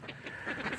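Ducks working a muscadine grape vineyard give several quick quacks in a short burst, close by and moderately loud against soft outdoor background noise.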